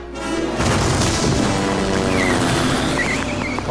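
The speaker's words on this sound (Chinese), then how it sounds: "爆炸！" A big explosion in the LEGO Batman video game, a loud booming blast that hits suddenly and rumbles on at full strength for a few seconds, with faint tonal game sounds over it.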